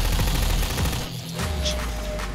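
Turrets fire bursts of rapid gunfire in Half-Life 2: Episode Two, loud dense rattling volleys with a short lull before the shooting resumes.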